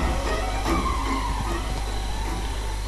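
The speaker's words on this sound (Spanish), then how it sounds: "¿He escuchado un coche?" A car driving in the Friday the 13th horror video game: a loud, steady engine rumble close by, with a brief tire-skid squeal over it.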